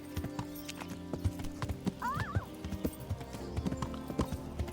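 Horse hooves clip-clopping in a steady rhythm in the game Kingdom Come: Deliverance, near and fairly quiet, with a brief neigh partway through.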